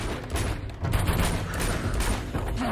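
Gunfire rattles in dense, overlapping bursts in Uncharted 2: Among Thieves during a firefight against powerful enemies. The shots blur into a steady barrage with no quiet gaps.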